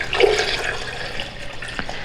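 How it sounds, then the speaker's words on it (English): Water gushes and splashes steadily into a blender over paper, a close, continuous pouring sound with a faint hollow ring. "add some water to your blender so that it covers the paper"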